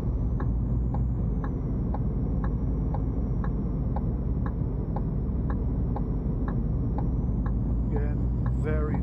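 Truck engine in Euro Truck Simulator 2 with ProMods, a steady loud low diesel drone and faint regular ticking as the rig is eased out of a tight spot, with a short hiss near the end.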